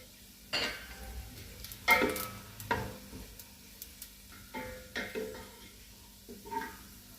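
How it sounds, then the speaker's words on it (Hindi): A spoonful of white cumin seeds sizzling in hot oil with lightly browned onions for Punjabi karhi pakora: a soft, steady sizzle broken by several close spoon clinks and stirring scrapes against the pan. "इसमें अब 1 चम्मच मैं ज़ीरा डाल दूँगी, सफ़ेद ज़ीरा।"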